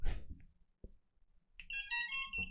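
An FPV drone gives a short series of electronic beeps and rising tones just after its battery is plugged in, preceded by a few soft handling clicks and thumps, with no talking.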